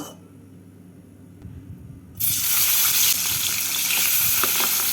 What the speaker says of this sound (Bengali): কড়াইতে দিয়ে দিচ্ছি সর্ষের তেল তেলটাকে গরম করে নিয়ে মাছগুলোকে ভেজে নেব